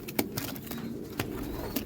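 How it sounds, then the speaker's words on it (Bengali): Pigeons, including an Andhra pigeon chick, coo softly and closely in a few short, repeated calls over faint background noise. "লাল পায়রা আমার বাড়িতে নেই, এই ফার্স্ট লাল বাচ্চা হচ্ছে অন্ধ্রার"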